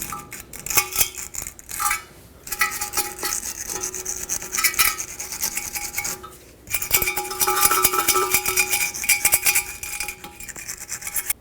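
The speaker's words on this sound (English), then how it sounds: "I'm going to take a wire brush and gently clean it off" A wire brush is worked over caked grime on the rear wheel hub of a 2012–2019 Fiat 500, giving continuous close scratchy rasping strokes with short pauses between passes.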